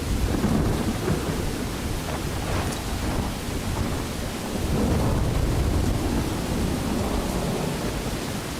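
Steady heavy rain with rolling thunder fills a stormy night in Skyrim, a dense continuous wash that swells a little toward the middle and end, with no voices.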